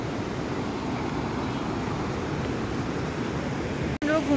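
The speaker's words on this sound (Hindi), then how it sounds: "नदी की आवाज़ सुन सकते हो, आज यहाँ पे बहुत तेज नदी आ रही है।" Fast-flowing Alaknanda river in the hills rushes as a steady, broad roar, loud and continuous, with a brief break near the end.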